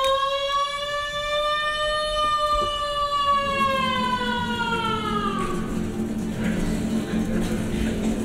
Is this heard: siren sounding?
yes